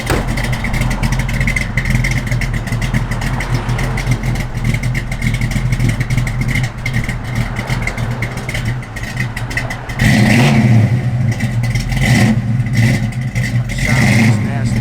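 A 1965 Ford Mustang 2+2 engine runs loud and close at a steady rumble, swelling into a stronger rev partway through, with speech over it.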